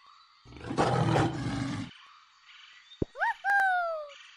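A lion lets out a deep, loud roar for about a second and a half amid a jungle-themed animal guessing game for children, followed by a quieter pause and then brief high bird-like whistles and chirps.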